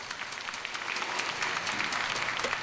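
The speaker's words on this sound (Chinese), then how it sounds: "赢得球迷的掌声。" Baseball fans at Taichung Intercontinental Baseball Stadium applaud steadily through the stands as an injured catcher is carried off during a farewell game, a dense, even wash of clapping from a large crowd.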